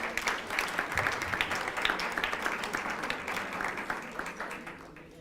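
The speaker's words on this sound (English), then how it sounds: "a big round of applause for our puppy family" An audience at a service dog graduation ceremony bursts into sustained applause for the puppy families, a dense rattle of many hands in a room that holds steady for several seconds, then begins to thin out.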